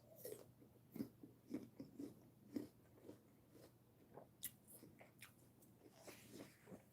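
Someone bites and chews an apple up close, with a series of crisp, irregular crunches and wet chewing sounds roughly every half second, quiet and intimate, with soft breathing between bites and no talk.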